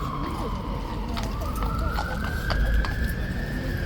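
Hooves of a guard horse clop on pavement in a busy street, a few distinct strikes under crowd murmur, with a siren-like rising tone sweeping across the background.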